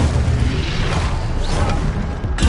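The Incendio fire spell cast in the video game Hogwarts Legacy, a loud, continuous roaring whoosh of fiery rumble and crackle with booming low end, sustained throughout and ending in a brief burst, no talking.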